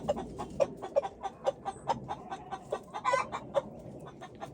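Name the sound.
chickens clucking, lavender orpington flock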